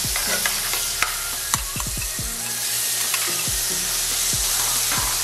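Small shrimp dropped into a hot pan hiss loudly in a broad, continuous sizzle, with a quick run of low thumps and spatters as they land, close by and steady to the end.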